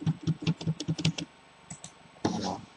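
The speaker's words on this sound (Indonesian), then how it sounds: "Pakai spasi yang besar panjang di keyboard." Keys tapped on a computer keyboard in a steady burst of about seven close strokes, then a pause and one firmer, broader press like the long space bar, with no speech.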